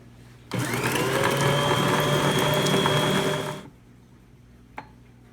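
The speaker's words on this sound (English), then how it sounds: "So the more mixing, the better." A stand mixer or electric hand mixer whirs loudly and steadily for about three seconds while beating cookie dough to a creamy, nearly white consistency, then cuts off, followed by a faint click.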